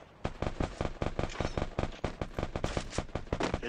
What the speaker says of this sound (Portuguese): Eles aí atirando, eu acho.